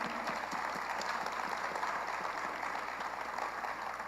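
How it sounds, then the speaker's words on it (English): A conference audience gives dense, continuous applause that stays loud and even throughout, with no talk over it. "A round of applause for everybody."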